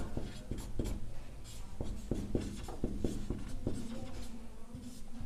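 Chalk or marker strokes tap and scrape on a board while a class 10 maths lesson on coordinate geometry is written out, in a quick irregular rhythm of short, close marks.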